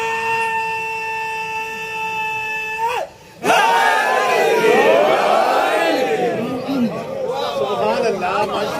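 A large crowd chants slogans together, loud and sustained, after a steady tonal hum cuts off abruptly.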